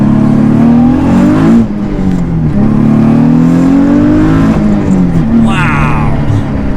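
A heavily modified Nissan Z Performance engine revs hard and loud from inside the cabin, pitch climbing and dropping through two long pulls before a sharp upshift rise near the end.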